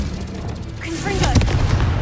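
A Confringo fire spell bursts in Hogwarts Legacy, a dull booming blast with a crackling burst rising out of steady background game noise.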